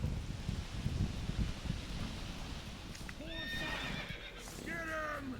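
Roach, the horse in The Witcher 3, gallops with a rapid muffled clip-clop of hooves, followed by two loud, close neighs and whinnies.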